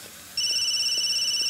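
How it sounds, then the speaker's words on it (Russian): A telephone starts ringing after a short quiet moment, a bright electronic tone held steady and close with a slight pulsing warble. "телефон!"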